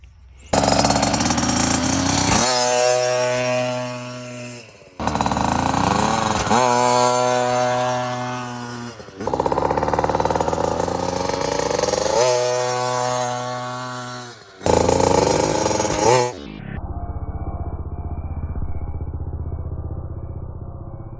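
A new KTM dirt bike engine is blipped up close in several loud bursts, a rising snarl and revs dropping to a buzzy idle between them, before settling into a quieter steady idle.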